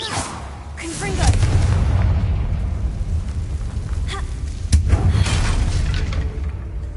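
Booming fire-spell blasts from Hogwarts Legacy roll out in a dense, loud wash, with a couple of sharper cracks standing out amid a constant rumbling roar.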